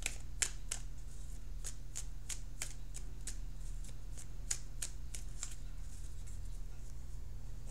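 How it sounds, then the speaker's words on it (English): Tarot cards shuffled close by in a steady run of crisp riffling snaps, a dozen or so quick flutters spaced evenly over several seconds against a low background hum, with no talking. "So I am shuffling for the outcome card."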